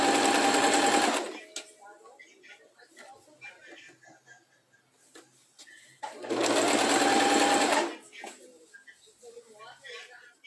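A sewing machine runs a test stitch in two short, loud, close bursts, with someone talking quietly in the pause between them.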